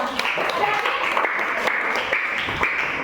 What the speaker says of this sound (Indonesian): Tepuk tangan buat kelompoknya.